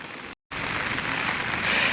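Rain falls steadily outdoors, a dense, even wash of drops pattering on surfaces nearby, briefly cut out for a moment before resuming without talk.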